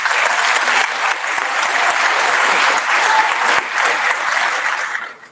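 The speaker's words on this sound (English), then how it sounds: "Can we give them a round of applause?" Sustained applause from a school graduation audience at Roosevelt Middle School, steady and full for about five seconds, then tapering off at the end.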